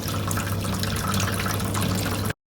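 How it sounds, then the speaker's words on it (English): Water draining from the tank of a Maquet HCU 40 heater cooler through its red bottom taps, a loud, steady rushing gush that cuts off abruptly into silence. "We need to drain through the red taps at the bottom of the heater cooler."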